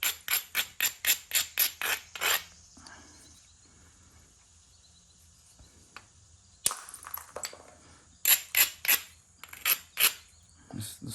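Sharp stone-on-stone knapping strikes take flakes off a hornstone edge while beveling it, a rapid run of about a dozen crisp knocks, then a quiet stretch with faint handling, then another burst of close, loud strikes.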